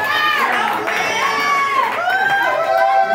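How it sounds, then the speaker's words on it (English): A crowd cheers and shouts for pageant contestants at a crowning event, high excited voices and whoops rising and falling over the clapping throughout, loud and close. "Give them a big round of applause for all of their hard work."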